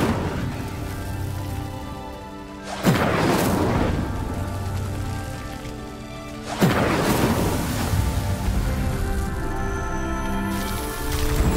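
Two sudden roaring bursts of the Incendio fire spell in Hogwarts Legacy, each flaring loud and then trailing into a crackling rush that settles under steady game ambience.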